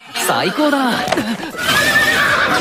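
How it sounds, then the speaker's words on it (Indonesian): Anime horse whinnying with dramatic stress amid a lively scene, its neigh rising and falling under overlapping voices and background music, with a brighter swell of sound in the second half. "si kuda Ori jadi seolah tak terima bakal tuannya justru menaiki kuda jejadian itu"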